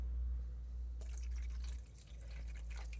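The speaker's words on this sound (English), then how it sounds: "I'm going to add some of this vinegar water mixture to this" Vinegar and water mixture poured into a wool dye bath containing soda ash, a soft trickling and dripping of liquid that starts abruptly and continues steadily, fairly faint and without talk.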